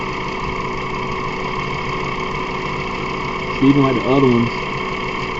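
A 2006 Mazda 3 engine idles roughly with one cylinder disconnected, suspected of a blown head gasket between cylinders; a steady near engine drone runs throughout while someone talks briefly over it.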